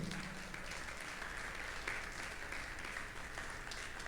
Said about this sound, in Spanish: Puedes darle un aplauso al Señor por esto.